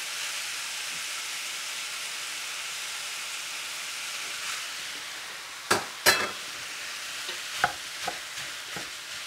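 Chopped celery and green pepper sizzle in a kettle with sausage, a steady frying hiss broken by several sharp stirring scrapes and clanks in the second half.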